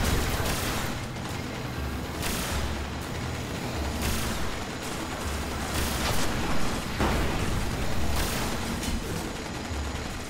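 Rocket launcher blasts and rapid gunfire roar in the Destiny strike against Valus Ta'aurc on Mars, a loud, continuous barrage of booming explosions and crackling shots with no pause.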